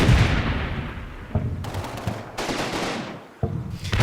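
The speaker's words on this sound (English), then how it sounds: "there's a ton of machine gun fire on them right now" Bursts of machine gun fire in the war video game Combat Mission Battle for Normandy, coming as several loud rattling volleys with short gaps between them and nobody talking.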